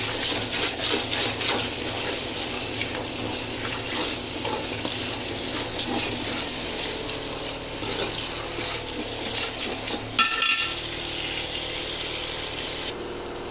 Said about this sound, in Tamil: இன்னும் கொஞ்சம் நல்லா வதங்கட்டும்